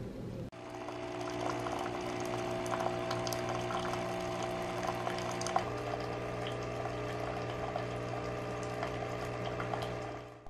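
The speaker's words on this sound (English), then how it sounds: "I'm gonna get hot water." Hot water pours steadily for tea for about ten seconds, a continuous trickling stream with a faint mechanical hum under it.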